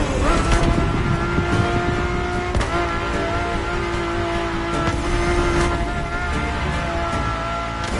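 Engine of a racing-derived car with a carbon fiber monocoque chassis in The Crew video game, heard from inside the cabin as a loud, steady droning hum with a sustained tonal whine and faint talk underneath.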